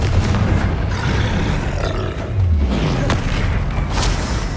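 Repeated Confringo blasting spell explosions in Hogwarts Legacy, loud booming bursts with rumbling tails layered over dense game combat noise, with sharp cracks scattered throughout.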